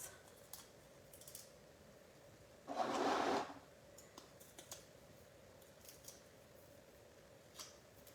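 A brief peel of adhesive backing from paper card-making pieces, one short tearing rasp in a quiet room, with a few faint taps and rustles around it.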